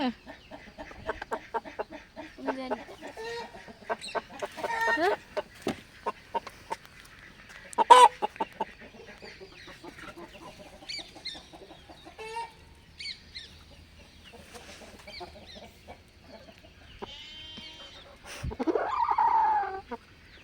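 Chickens and roosters on a poultry-keeping farm cluck and call in a steady, busy chatter, with a few sharper, louder cries and a brief crow-like call near the end, fairly close by with no talking.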